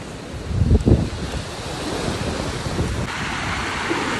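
Ocean surf with big waves rushes and washes steadily on a beach in Surigao, with a burst of wind buffeting the microphone near the start, no voices.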